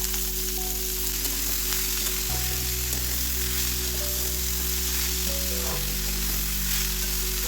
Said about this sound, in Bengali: তেল গরম হয়ে গেলে তারপর তাতে জল ঝরানো কাটা সবজিগুলি দিয়ে 1-2 মিনিট